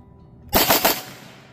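A Century Arms AP5-P pistol fires a quick burst of about three close, loud shots in rapid succession, ringing out briefly after a quiet moment, with no voices.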